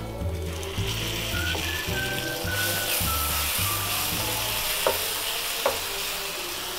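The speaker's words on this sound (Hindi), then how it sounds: "ये अब मैं भुट्टा डाल रही हूँ।" Corn kernels drop into a hot frying pan for baingan bharta, setting off a steady sizzle with scraping stir strokes and a couple of sharp clinks, with no voices.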